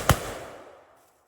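A single sharp rifle crack from a military funeral volley salute, outdoors, loud and close, with a short echoing decay that fades over about a second.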